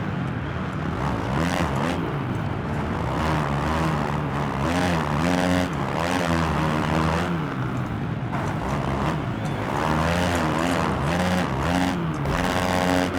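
A dirt bike engine in the Monster Energy Supercross video game revs and bounces on a stadium track, its whining pitch rising and falling over and over in short bursts, loud and continuous throughout.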